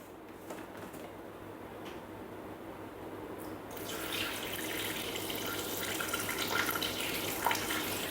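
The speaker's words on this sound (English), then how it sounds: "140 grams of water." Water, 140 grams measured out, is poured into a Thermomix bowl: a quiet, soft trickle that swells into a fuller, hissing pour partway through, close by and with no talking.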